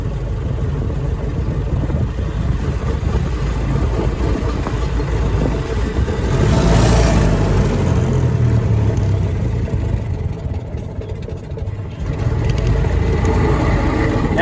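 A Ford Model T engine running while driving and shifting down into first gear, a loud, continuous low rumble that swells briefly in the middle before settling.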